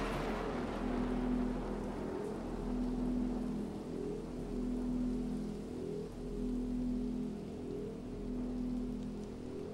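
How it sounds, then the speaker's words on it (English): Steady rain recorded in a song pours as a constant hiss over a low rumbling bed, with a soft repeating tone pulsing at regular intervals and no clear thunder crack. "It's so cool how they recorded the rain here and the thunder."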